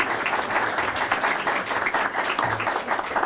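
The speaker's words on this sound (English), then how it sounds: "Give her a round of applause." An audience at a small business pitch competition applauds continuously, a dense, even wash of clapping from a roomful of people that holds steady throughout.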